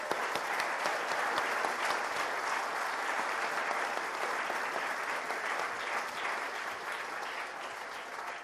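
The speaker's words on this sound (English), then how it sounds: "Let's give a round of applause to all our sponsors." Sustained audience applause for the sponsors at a Python conference opening plenary, a dense, even wash of clapping from a large crowd that stays strong and tapers only slightly at the end.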